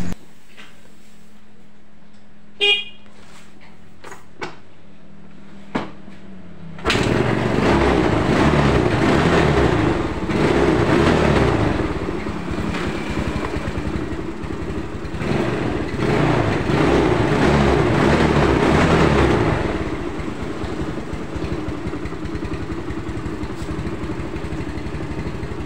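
A Yamaha Mio scooter that is hard to start from cold, first a few isolated clicks and knocks, then the engine catches and runs at a steady loud idle with some throttle rises before settling lower.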